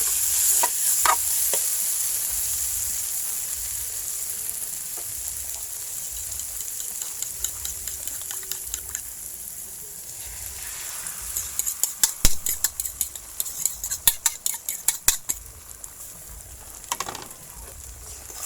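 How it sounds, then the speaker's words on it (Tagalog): Beaten eggs sizzle in a hot pan as a utensil stirs them until scrambled, with a close, continuous frying hiss and repeated rapid scraping and tapping strokes that grow busier toward the end. "Kailangan haluin natin mga kasarap yung itlog hanggang maging scramble."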